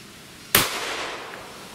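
A single sharp 9mm pistol shot firing a Lehigh Extreme Defense round loaded with 5.4 grains, loud and close with a brief decaying tail, alone without talk.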